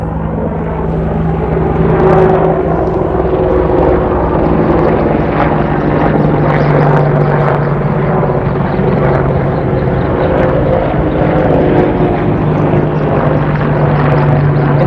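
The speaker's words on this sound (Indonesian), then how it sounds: "Sebentar, ada helikopter di atas." An Indonesian military helicopter drones steadily overhead, its low rotor thrum loud and continuous throughout with no break.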